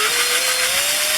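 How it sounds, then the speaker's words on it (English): A power drill bores through a small piece of scrap wood, its motor whining loud and close with a slowly rising pitch as the bit cuts steadily through. "we just figure out where we want it, and just drill right through it"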